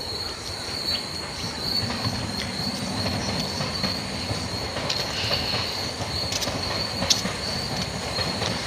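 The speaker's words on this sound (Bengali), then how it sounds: "আর এখান থেকে তো ট্রেন যাচ্ছে" A train rolls past with a steady rumble of wheels and sharp metallic squeals rising over it, continuous and fairly close.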